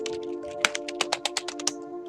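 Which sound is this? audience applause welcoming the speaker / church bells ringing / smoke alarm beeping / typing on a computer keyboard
typing on a computer keyboard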